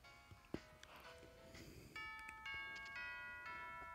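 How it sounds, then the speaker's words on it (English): Chiming school bell in the video game Pokemon Sun and Moon, set in a Pokemon Trainer School: a short sequence of clear, sustained electronic bell tones ringing in steps after a soft knock, loud and alone with no talk. "Oh, that's a school bell."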